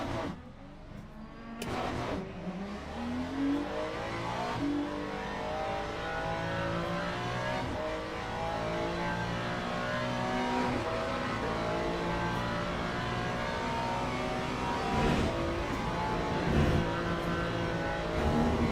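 Ferrari race car in Le Mans Ultimate roaring steadily at high revs, the engine note climbing and dropping through gear changes with brief shifts, loud and continuous throughout.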